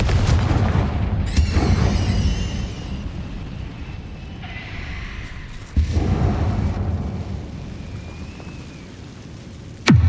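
Fire-spell blasts in a wizarding video game battle, booming low bursts over a continuous rumbling, crackling background, with sharp onsets near the middle and end of the clip.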